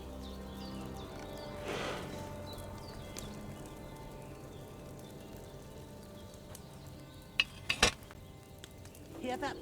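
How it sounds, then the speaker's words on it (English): Wine boiling in a cauldron over a flame in the medieval game Kingdom Come: Deliverance II, a steady soft bubbling and simmering hiss, with a few sharper clinks and pops near the end. "Hear that bubbling? It's boiling."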